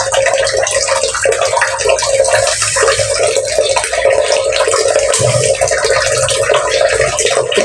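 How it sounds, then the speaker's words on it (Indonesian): Tap water runs steadily and loudly into a sink or bowl while red chilies are rinsed, a continuous close splashing hiss with no pauses. "nunggu airnya sampai banyak baru kita bilas"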